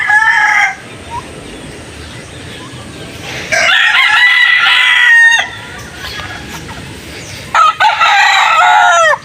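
Rooster crowing among chickens on a morning farm, three loud close crows in turn over a bed of faint clucking and background ambience.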